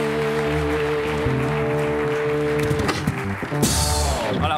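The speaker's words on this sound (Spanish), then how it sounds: "Un aplauso para la Gunichonga" Studio audience at a late-night talk show clapping for a guest, a steady wash of applause under music, loud and close, swelling into a bright burst of clapping and cheering near the end.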